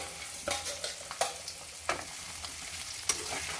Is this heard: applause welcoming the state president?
no